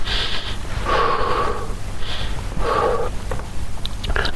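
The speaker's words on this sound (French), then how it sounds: "respirations." A conference audience inhales and exhales deeply together, slow rhythmic breaths of air in a large room, two or three full cycles with no talking.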